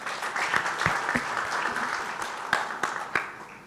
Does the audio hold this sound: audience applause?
yes